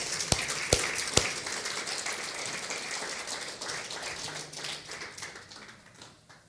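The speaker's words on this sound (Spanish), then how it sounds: "Alguien dele un aplauso fuerte al Señor" A church congregation applauds during a sermon, with a few sharp claps at the start and then a steady wash of clapping that slowly fades away.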